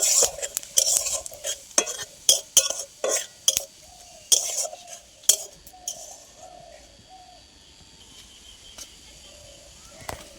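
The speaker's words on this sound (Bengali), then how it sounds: "আর দিয়ে দেব গোটা জিরে। ব্যাস, এবার একটু নাড়াচাড়া করব" Whole cumin seeds and split dried red chillies fry in oil for a potol chingri dish, with a run of sharp spoon-on-pan scrapes and clanks over a soft sizzle that fades toward the end.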